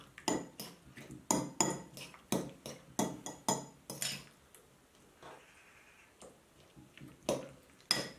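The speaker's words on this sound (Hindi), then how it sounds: "अब इनको अच्छी तरह से मिक्स कर देते हैं।" A spoon clinks and scrapes steadily against a bowl while eggs and coriander leaves are mixed into a capsicum cutlet mixture, a quick run of taps that pauses midway and then resumes, close and without talk.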